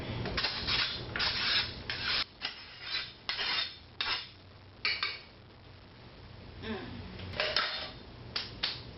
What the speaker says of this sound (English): just pour the macaroni and cheese